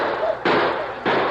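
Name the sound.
gunfire sound effect in a western radio drama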